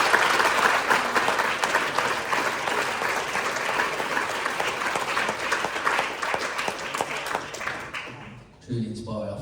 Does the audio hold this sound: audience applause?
yes